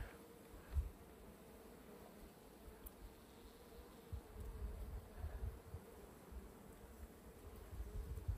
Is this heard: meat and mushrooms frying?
no